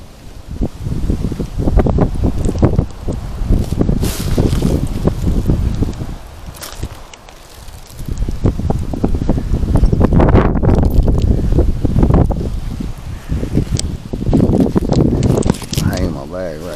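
Wind gusting through trees during a tree removal job, a broad steady roar rising and falling in strong surges, with rustling and handling noises close to the microphone and some wind buffeting.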